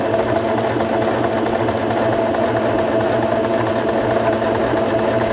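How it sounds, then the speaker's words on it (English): A Singer Fashion Mate 5560 sewing machine stitches a seam, a close, steady mechanical whir with a fast, even rhythmic clatter and no pauses. "Step on the foot control to begin sewing again"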